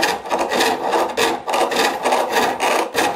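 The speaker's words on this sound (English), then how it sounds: "I'm going to bring in my square carbide. That'll allow me to cut down to it a little bit easier." A square carbide cutter scrapes wood while shaping a drawer pull for a side table, making steady rhythmic rasping strokes, about eight to nine close, loud passes with brief pauses between them and no talk.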